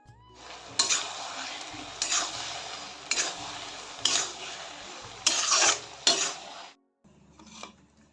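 Pasta cooking in a pan is stirred in about six distinct scraping strokes with a light sizzle between them. The strokes are close and fairly loud, then stop near the end.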